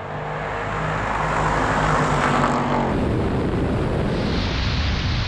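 Defender V8, Jeep Wrangler 392, supercharged AMG G63 and BMW X7 M50 roar together in a loud, sustained engine surge while accelerating off the line in a drag race, the pitch climbing then shifting midway as gears change.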